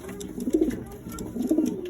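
Two soft, low pigeon coos, one after the other, from silver pigeons close by with a faint background hum.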